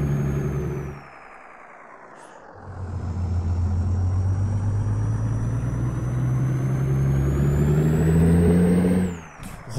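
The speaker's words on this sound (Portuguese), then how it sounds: "O ronco do caminhão tá show" In Euro Truck Simulator 2, a Volvo FH16 truck engine drones steadily and close, rising in pitch as it pulls away. It is preceded by a brief dip and hiss near the start, and ends with another hiss of air brakes.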